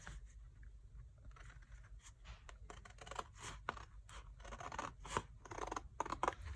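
Scissors slowly snipping through notebook cover material, with repeated crisp close cuts and rustling that grow busier and louder toward the end, alone without talking.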